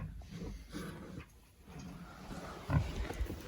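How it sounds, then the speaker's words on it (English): Several pigs fighting close by, low grunting and oinking scuffles in bursts, fairly quiet overall with a louder squabble near the end. "And then 3 very noisy piggies"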